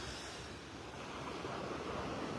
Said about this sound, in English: A few little waves lapping on the shore.